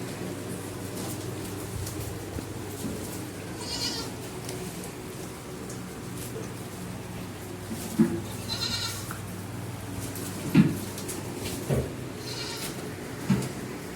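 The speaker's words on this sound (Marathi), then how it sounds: "गव्हाणीत कशा प्रकारे शेळ्या वैरण खाऊ राहिले" Goats feed steadily from a trough, with soft munching and rustling of fodder over a low background hum, plus a few sharp knocks and scattered faint bleats.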